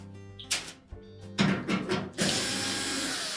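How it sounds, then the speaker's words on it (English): Quarter-inch hex-head screws being removed from the back of a Whirlpool washer's main top with a power driver, giving short whirring bursts and clicks followed by a longer steady buzz, close up. "to remove the main top, we'll need to remove these 3 screws located across the back"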